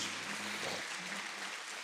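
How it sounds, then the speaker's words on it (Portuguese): A church congregation claps steadily in a dense, even wash of applause that fills the short moment, with a low hum fading early on. "aplauda bem forte o nome de Jesus"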